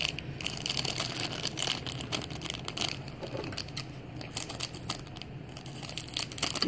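Scissors snip and crinkle through plastic toy packaging, a steady run of close crackling cuts and rustles, fairly quiet and with no talking.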